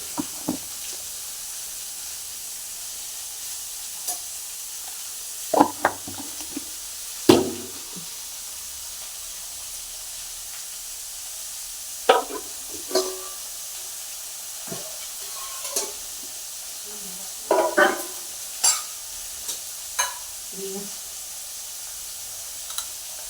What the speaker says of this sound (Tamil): இந்த மாங்காய் வதங்கி இருக்குது இல்லையா